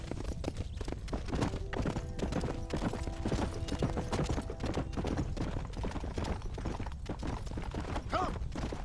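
Horse hooves pound in a quick, steady galloping rhythm in Red Dead Redemption, continuous and fairly close, with a faint synthetic game-like quality.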